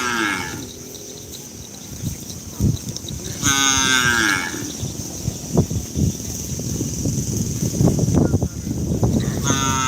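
Cattle moo loudly and close by at a Madurese bull race training session, several long calls spread over outdoor wind and handling noise.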